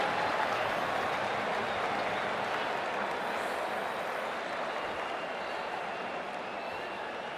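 Cricket crowd at a World Cup one-day international between India and West Indies, cheering and applauding in a steady, dense roar that fills the whole stretch without a break.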